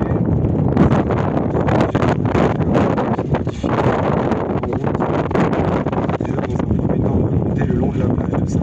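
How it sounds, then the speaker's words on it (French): Steady wind buffets a microphone on a boat heading toward Collioure, a dense continuous rumble and roar that fills the whole stretch with only slight dips, voices faintly mixed in underneath. "On a encore un petit peu de vent,"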